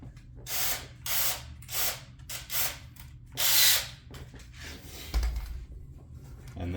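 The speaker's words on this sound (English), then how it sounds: "take off the template and use a 1/4 inch drill bit to finish it off" Drill with a 1/4 inch bit boring through thin 1/16 inch fiberglass from a kit template for a Hanger 9 Carbon Cub model plane, heard as several short, close bursts of whirring and grinding separated by brief pauses, with no talking.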